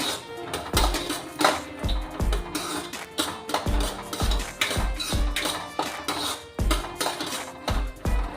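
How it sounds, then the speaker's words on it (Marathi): Pigeon pea seeds roasting in a little oil in a metal pan, with repeated sharp clinks and scrapes of a spoon against the pan at an uneven rhythm, close by and alone. "छानपैकी भाजून घ्यायचे थोड्या तेलामध्ये।"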